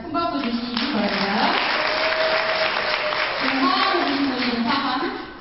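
Audience applause at a company year-end party, a dense sustained clapping from a crowd that fills the whole stretch while a voice speaks over it.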